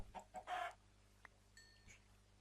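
Minecraft chicken clucking in a survival game, a few short bursts near the start with the loudest around half a second, followed by faint scattered game sounds.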